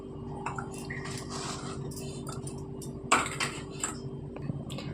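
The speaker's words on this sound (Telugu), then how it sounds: "ఇప్పుడు ఒక గిన్నె తీసుకొని" A bowl is picked up among kitchen dishes, with soft clinks of metal and crockery and one sharper clatter partway through, faint and close over a low steady hum.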